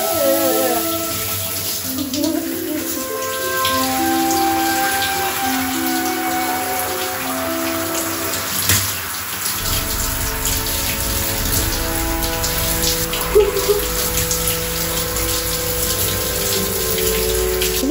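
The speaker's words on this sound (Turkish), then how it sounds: "Ve soğuk duş." A cold shower runs steadily, water pouring and spattering close by in a continuous hiss, with some background music-like tones layered beneath and brief splashy shifts partway through.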